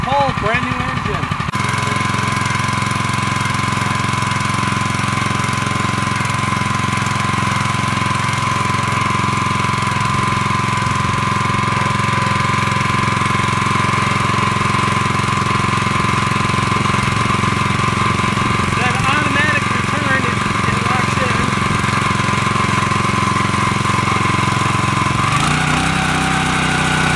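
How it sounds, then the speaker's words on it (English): A small gas engine on a Lumberjack 22-ton log splitter runs loudly and steadily throughout, with a rough mechanical clatter and a brief change in pitch near the end as it revs. "Revving up the engine doesn't make the hydraulics move any faster."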